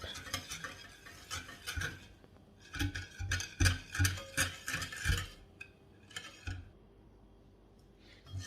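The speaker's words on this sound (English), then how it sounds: "I'm going to continue to, whisk before adding my" Cookie batter with melted butter is whisked in a bowl, bursts of quick rhythmic clicking and scraping strokes, close and fairly quiet, pausing briefly between rounds.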